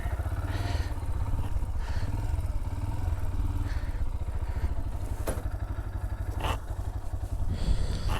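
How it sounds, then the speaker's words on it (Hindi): A motorcycle's engine idles and rumbles steadily at close range on a Pamir Highway adventure ride beside a lake, with faint clattering and knocks as the bike is brought to a stop and parked, and no talk over it. "इधर मैं रुक के कहीं बाइक खड़ी करूँ पहले।"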